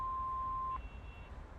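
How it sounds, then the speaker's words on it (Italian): A steady electronic voicemail beep from a phone in the GTA 5 video game plays alone for about three quarters of a second, then cuts off, leaving low background hum. "Lasciate un messaggio dopo il beep."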